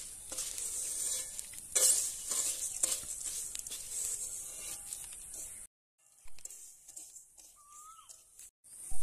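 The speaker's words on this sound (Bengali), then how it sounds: "এই মতো আমি চালগুলোকে ভেজে নেব সবগুলো একই রকম ভাবে।" Rice dry-fried and stirred to puff it for muri, a dense crackling hiss with scraping strokes that cuts to near-silence, then resumes in quieter bursts.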